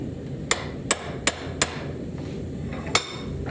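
Hammer blows on a chisel cutting through layered steel for a forged blade: five sharp, ringing metallic strikes at uneven intervals, close and loud, with no talking.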